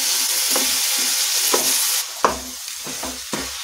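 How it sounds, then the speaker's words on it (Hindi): Eggplant is stirred into sizzling masala in a pan for dhaba-style baingan bharta: a loud, continuous fry hiss punctuated by rhythmic scraping strokes of the spoon. "मैं बैंगन ऐड कर दूंगी। और इसे मैं अच्छे से मिक्स कर लूंगी।"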